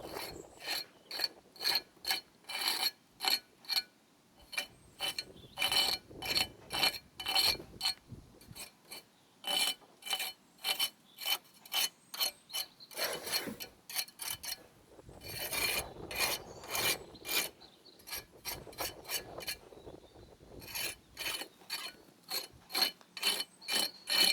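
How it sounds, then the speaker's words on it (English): A hand tool scrapes old mortar from the joints of chimney brickwork in short, repeated rasping strokes, loud and close, with brief pauses between bursts. "I'm just scraping all that back at the bottom there"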